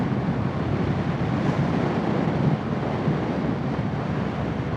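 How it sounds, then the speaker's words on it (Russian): Strong wind roars steadily across the microphone, a loud, continuous rushing buffet with no other sounds. "Ветер вообще сильный дует, ё-моё, ужас."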